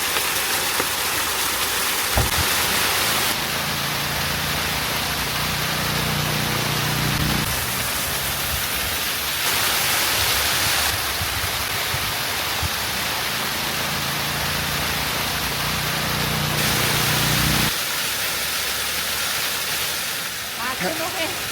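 Snowmelt water rushes down a Himalayan mountain stream near Rohtang, a steady broadband hiss of flowing water that fills the whole stretch while a voice talks over it.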